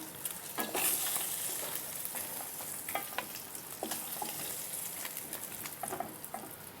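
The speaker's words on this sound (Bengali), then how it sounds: "সমস্ত মাছগুলোকে আমার ভাজা হয়ে গেছে" Steady frying sizzle of rohu fish pieces with scattered crackles and pops, close by, broken by occasional scraping stirs in the pan.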